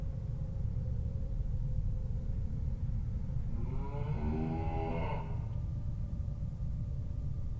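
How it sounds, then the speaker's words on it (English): A cow gives a single drawn-out moo at moderate distance, rising and falling over about two seconds against a steady low background hum. "Sounds like a cow."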